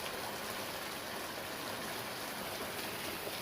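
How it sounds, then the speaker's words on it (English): Water pouring over the edge of a pond, a steady, dense rushing wash like a small spillway, continuous and fairly close with no voices. "there is indeed water pouring over the edge here"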